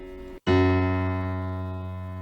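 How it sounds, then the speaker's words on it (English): A single Casio CT-S1000V digital keyboard note strikes after a brief silence, with a crisp attack and a bright tone that sustains and slowly fades. "And now listen carefully to the attack on the Casio."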